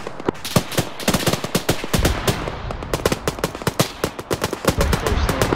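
Dense automatic gunfire in Arma 3 during a USMC landing-force battle: rapid overlapping bursts and single shots crack almost nonstop, loud and close, with no pauses.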